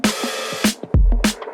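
Drum hits run through a compressor set hard and fast, a few punchy kick and snare strikes over about a second and a half, loud and upfront with dense, squashed bursts and no talking.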